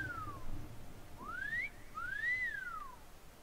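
A rising and falling whistle from a player character calling a horse in Skyrim, three clear slurred tones over quiet game ambience, close and moderately loud.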